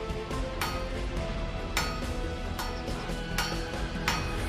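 A blacksmith's hammer strikes glowing metal on an anvil in a village forge at Izverna, giving sharp, evenly spaced blows about once a second over a dense, steady background clatter.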